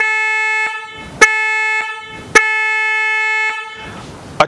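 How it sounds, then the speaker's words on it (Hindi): Horn fitted to a Honda CG 125 motorcycle blares in three long, loud, steady bursts separated by short clicks and gaps, very close and with no talk. "इस हॉर्न को हम चलाते हैं।"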